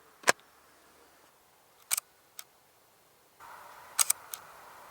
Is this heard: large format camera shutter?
yes